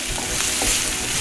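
Sliced onion and ginger garlic paste fry in a hot pan, giving a loud, close, continuous sizzle with a couple of brief spatula scrapes.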